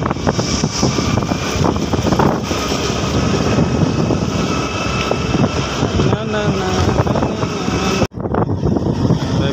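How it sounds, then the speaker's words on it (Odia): Cold wind blowing outdoors on the way to a roadside market, heard as a steady, loud roar buffeting the microphone throughout, with a brief sudden drop near the end. "ଥଣ୍ଡା ଥଣ୍ଡା ପବନ ବହୁଛି"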